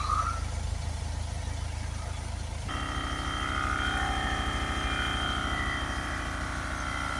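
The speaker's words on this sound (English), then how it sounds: "That's the Milwaukee compressor I'm using" A steady mechanical drone hums throughout, joined partway by a higher whining motor tone as a Milwaukee air compressor kicks in, over a low vehicle engine idle.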